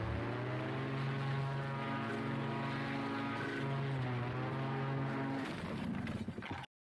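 A paramotor's engine and propeller run at launch, a loud, steady buzzing drone with strong harmonics that wavers slightly in pitch, then cuts off abruptly at the end.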